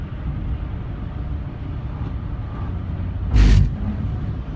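A 1998 light bluish gray Buick LeSabre cruising on I-96 in the Detroit metro area, with steady cabin road roar throughout and a brief louder whoosh near the end, as of a passing vehicle.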